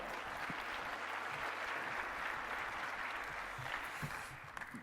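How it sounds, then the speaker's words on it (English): An audience at a radio industry conference claps in sustained, even applause for a few seconds, moderately distant, tapering slightly at the end. "give Angela a round of applause as she comes on up"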